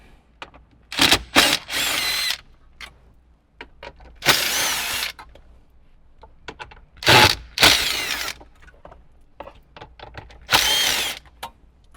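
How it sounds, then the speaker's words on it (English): A cordless screw gun backs 10mm bolts out of a Toyota 4Runner's factory radio mount in several short, loud whirring bursts separated by pauses and small clicks. "whether you're using a screw gun or a regular 10mm in a socket, go ahead and get those out."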